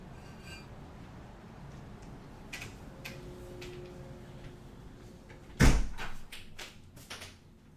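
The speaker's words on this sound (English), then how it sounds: "I think I have to shut the balcony door." Quiet room tone with a few light clicks, then a sudden loud thud of a balcony door being shut, followed by softer knocks and rattles.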